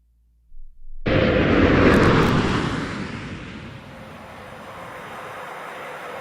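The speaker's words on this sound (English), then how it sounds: "the last landing of Shuttle Discovery on March 9, 2011" Space Shuttle Discovery making its final landing on March 9, 2011: after near silence, a sudden loud, broad rushing roar swells and then gradually eases into a steady, fainter rumble.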